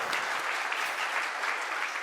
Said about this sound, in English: Ladies and gentlemen, this deserves a big round of applause